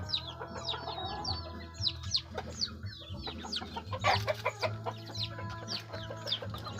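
Young chickens, grown from chicks, cluck and chirp repeatedly in an irregular chorus close by, with several overlapping calls over a steady low background hum.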